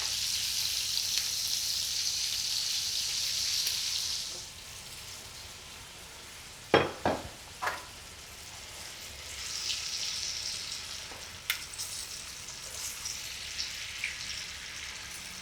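Rabbit pieces in butter in a pan, with a bright hissing sizzle at first that eases into a gentler, quieter fry, broken by a few sharp clacks of utensils against the pan.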